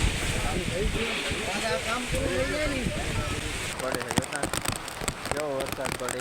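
Rain falls steadily during an outdoor havan, a constant wet hiss with spattering drops, heard under people talking nearby throughout.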